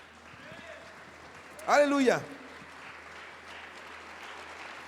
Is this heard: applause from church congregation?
yes